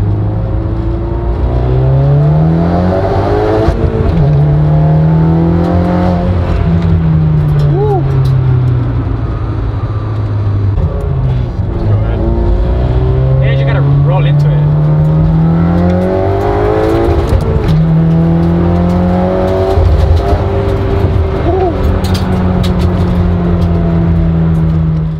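A 2019 Honda Accord 2.0T with a six-speed manual pulls hard through several gears. The engine drone climbs steadily, breaks off at each shift and climbs again, loud and close, heard from inside the car.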